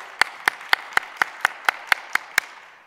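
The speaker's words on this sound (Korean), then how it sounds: "한 번 더 크게 박수 한번 쳐주세요." At a Christmas worship service, a church congregation claps in unison with nine sharp, evenly spaced beats that fade out at the end.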